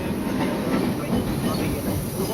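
A long passenger train on the Kolkata to Mumbai route running along the tracks: a dense, steady rumble and rattle of wheels and carriages heard from close by, loud and unbroken throughout.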